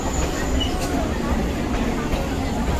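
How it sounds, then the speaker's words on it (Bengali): Trains at Ranaghat railway station in West Bengal, India, give a steady, loud rumble and clatter of rail traffic with a busy, crowded background and no clear pauses. "চারিদিকে ট্রেন।"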